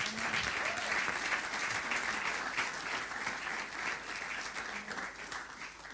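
A church congregation applauding the Lord, sustained clapping from many hands in a reverberant hall, steady and moderately loud for several seconds.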